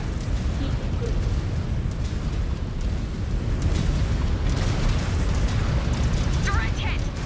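Heavy weapon fire and repeated explosions rumble and burst continuously around a mech battle in MechWarrior 5: Clans, loud and dense, with a voice talking over the din.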